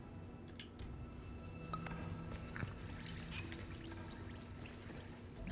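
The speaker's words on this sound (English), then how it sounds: "poison the water" Poison being poured into water in the Hitman video game set in New York, a soft, faint trickle and drip of liquid over a quiet background, with a brighter splash of pouring near the end.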